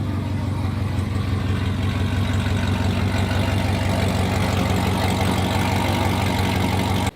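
A Chevrolet Corvette C7 Z06 idling loudly with a slight choppy lope, a steady deep rumble holding close and constant throughout.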